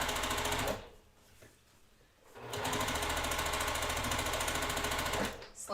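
A sewing machine stitches a seam over pins, running loud and steady, then slowing almost to a stop for a couple of seconds before speeding back up to a fast, continuous whir that cuts off near the end.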